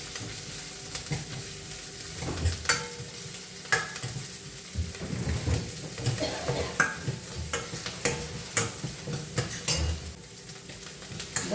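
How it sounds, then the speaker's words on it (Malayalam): Sliced onions sautéing over low heat in a pan while a spoon stirs them, steady sizzling with repeated scraping clatters against the pan throughout, close and fairly loud, no speech. "സബോളയൊക്കെ വഴന്നിട്ടുണ്ട് കേട്ടോ."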